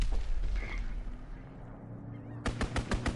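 Strafing-run gunfire in a PS4 shooter game: a rumbling barrage and muffled blasts, then a rapid burst of sharp, evenly spaced shots near the end.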